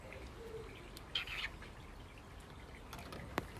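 A pet bird in its cage gives faint, brief chirps over a quiet room hum, ending with one short, sharper call.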